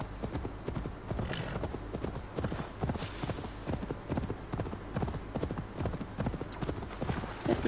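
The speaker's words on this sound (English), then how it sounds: "suara kuda ASMR" Horse hooves clip-clop in a steady trotting rhythm in the video game Assassin's Creed Valhalla, moderately close and continuous, with faint game ambience underneath and no talking.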